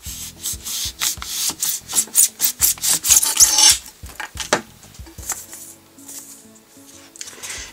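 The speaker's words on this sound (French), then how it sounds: "il suffit de couper des boules en polystyrène de 3 et 4 cm" Polystyrene foam balls being cut by hand give rapid rhythmic scraping and rasping strokes, loud and close at first, then slower and softer, with no voices.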